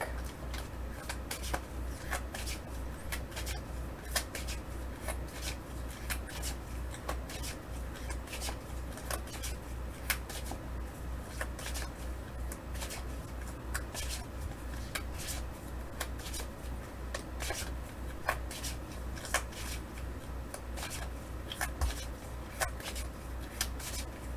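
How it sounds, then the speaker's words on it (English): A deck of tarot cards is shuffled quietly and steadily, with soft riffling and sliding card noises repeating over a faint low hum. "I'm going to shuffle the deck"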